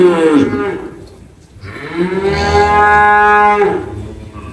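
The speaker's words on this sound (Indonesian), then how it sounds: "Bisa didengar suaranya. Sapi-sapi yang lagi menunggu makan." Hungry cattle mooing while they wait to be fed: a long, loud, drawn-out low moo near the start, a short pause, then a second sustained bellow, close by with no voices.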